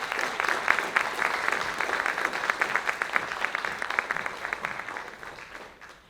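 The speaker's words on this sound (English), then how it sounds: "Let's give them another round of applause." Audience at a graduation ceremony clapping: a dense, sustained round of applause from a crowd that fades gradually toward the end.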